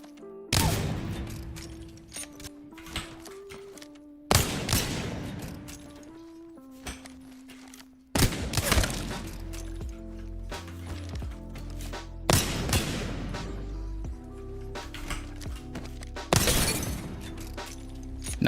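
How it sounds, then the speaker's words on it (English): Gunshots in the Apex Legends firing range hit practice targets, coming in loud, sharp bursts spaced a few seconds apart, each followed by a metallic, glassy ringing and clatter. "We're going to be bouncing off that and then shooting the targets"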